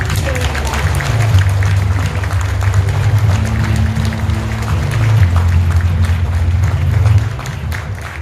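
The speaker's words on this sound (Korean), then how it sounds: "뜨거운 박수로 환영드립니다." Audience clapping to welcome a speaker at a Korean presidential campaign appointment ceremony, steady applause over a sustained low musical or crowd drone, easing off near the end.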